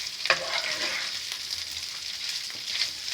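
Spicy chicken tikka bites fry in a pan over high heat with no water added, giving a steady, close, continuous sizzle with a few stirring scrapes.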